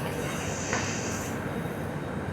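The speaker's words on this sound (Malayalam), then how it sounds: "അങ്ങനെ ആ ട്രെയിൻ ഇവിടുന്ന് എടുത്തു കേട്ടോ." A double-decker train pulls out of MGR Chennai Central bound for KSR Bengaluru, a steady rolling rumble with faint hiss and a brief squeal, heard from on board at moderate level.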